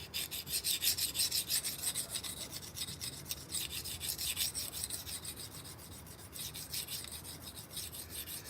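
A knife blade rasps in steady back-and-forth strokes across a very coarse 50 grit sharpening stone, a continuous gritty scraping that rises and falls with each pass, close and fairly loud, with no voices.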